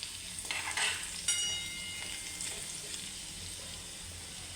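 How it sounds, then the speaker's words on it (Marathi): Garlic and curry leaves frying in a pan for a simple vegetable and amti, producing a bright, crackling sizzle that flares sharply as the leaves drop in, then settles into a steady hiss. "लसणाबरोबर मी हा कढीपत्ता पण टाकते लसूण छान गुलाबी झालेला आहे"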